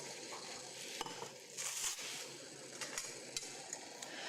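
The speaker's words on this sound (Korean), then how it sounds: "요 신선한 닭을 넣어서 한번" Fresh chicken goes into boiling stock water over high heat, giving a steady, soft bubbling and hissing hum broken by a few light knocks and clinks of utensils against the pot.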